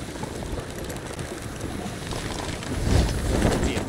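Wind and water rush past a sailing ship in Sea of Thieves, a steady broadband whoosh that swells louder near the end, with no voices.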